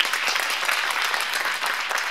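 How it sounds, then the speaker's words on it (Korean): Audience applause at a concert of popera and classical singing, a dense, even wash of clapping throughout, alone with no talk over it. "박수 한번 주실까요"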